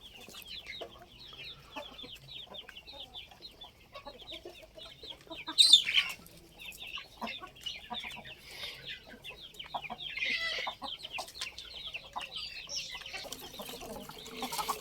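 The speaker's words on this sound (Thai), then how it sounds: "ลูกไก่ชุดนี้ก็คือ อินบีดนะครับเนี่ย" Young inbred chicks cheep and peep continuously in high, chattering bursts, with a louder flurry partway through and clucking from older birds nearby.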